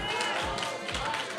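Audience clapping fills a church power session, a dense and steady patter of many hands that runs loud and unbroken throughout.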